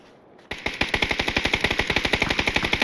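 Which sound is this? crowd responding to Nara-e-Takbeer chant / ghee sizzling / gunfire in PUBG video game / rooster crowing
gunfire in PUBG video game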